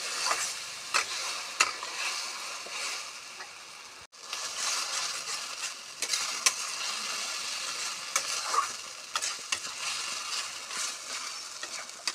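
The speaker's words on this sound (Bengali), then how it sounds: "শুকনো লঙ্কা দিয়ে দিয়েছি এগুলোকে ভালো করে ভেজে নেব" Dried red chillies and black cumin seeds fry in a pan with bonbharali, an even, close sizzle that runs throughout, broken by stirring scrapes and one short break near the start.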